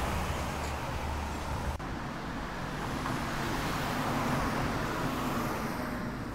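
Continuous road traffic noise near East Finchley and Highgate, London, with stationary cars at traffic lights, a broad rumbling roar of engines and tyres that stays steady throughout.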